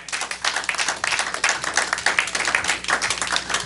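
Steady applause from a church congregation, dense overlapping claps filling the whole stretch at an even, lively level.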